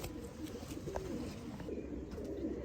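Pure Sialkoti pigeons, including a rooftop breeder female, coo in a low, steady murmur that runs through the whole stretch with no talk over it.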